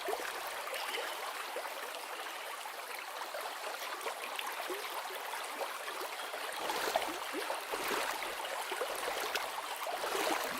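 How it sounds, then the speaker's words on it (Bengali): A cartoon rowing boat glides across a river, rendered as a steady soft trickle and gurgle of moving water, low and continuous with no voices. "আবির নৌকায় বসে পড়ে। নৌকা চলতে থাকে।"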